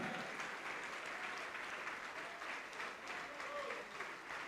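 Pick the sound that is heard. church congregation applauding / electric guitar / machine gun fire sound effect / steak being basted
church congregation applauding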